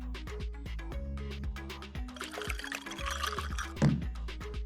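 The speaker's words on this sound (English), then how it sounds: "Pour oil in a pot." Cooking oil pours into a pot on a home stove while making popcorn, a soft liquid glug and splash heard under loud background music.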